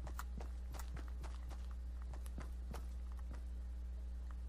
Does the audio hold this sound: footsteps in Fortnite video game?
yes